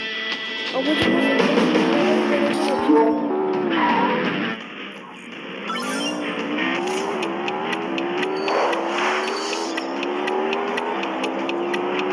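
Car engine in a driving video game, revving up and down through gear shifts with rising and falling pitch, loud and continuous with a brief dip midway.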